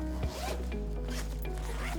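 A compression zipper on an Eagle Creek Pack-It packing cube being pulled, a short, faint rasping zip heard up close and alone.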